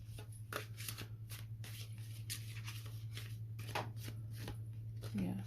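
Tarot cards being shuffled and dealt into piles, soft rapid riffling and flicking pulses over a low steady hum, close and quiet.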